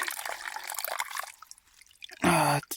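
Cold natural spring water runs from a pipe set into a hillside on the way to Mahendragiri in Odisha, a close, steady splashing trickle that fades briefly before a voice cuts in loudly near the end.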